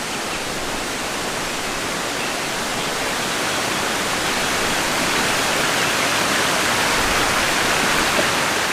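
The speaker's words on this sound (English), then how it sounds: "This is the water flow of Chilsun Valley." Mountain stream water rushing through Chilsun Valley on Jirisan, a loud, steady, broadband roar of flowing water close by with no pauses or voices.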